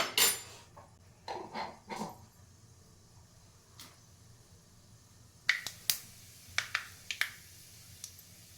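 Mustard and cumin seeds splutter in hot oil, giving sharp, faint crackling pops. They come in short irregular clusters, fall quiet in the middle, then burst again in a brisker series, with no talk.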